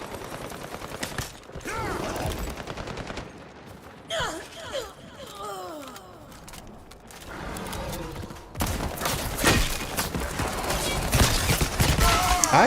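Single-fire weapons shooting in the video game Highguard, with separate gunshot bursts over constant game noise and talk, growing louder and denser toward the end.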